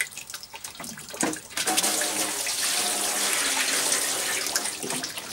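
Water pours and drains through a synthetic carpet laid over a worm farm as vegetables are washed in the garden, a steady rushing splash that swells after a short start and holds, no voices.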